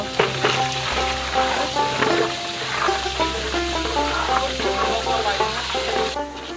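Spices being fried for haleem and nihari in a pot over a clay stove outdoors, with a busy sizzle and stirring scrapes over a constant low rumble of the fire, clattering throughout.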